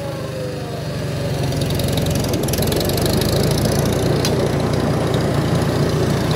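Farmall 350 tractor engaging the PTO to drive a Woods 208 bush hog cutter, a heavy steady engine drone that swells as the cutter comes up to speed and then holds loud and even, without speech.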